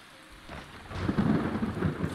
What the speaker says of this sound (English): Hey, we got some rain